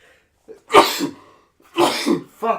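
A person sneezes sharply once, then a second loud burst follows about a second later, each with a breathy intake and nasal release, close to the listener.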